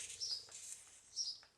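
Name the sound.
sparrow singing on a roof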